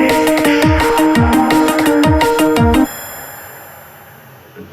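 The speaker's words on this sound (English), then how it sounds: "I'm pretty sure you guys can also hear the sort of ringing sound effects" A looping electronic music track made in Ableton plays bright, bell-like ringing tones in a fast, rhythmic pattern over low thumps, then cuts off, leaving a faint sustained ringing tail.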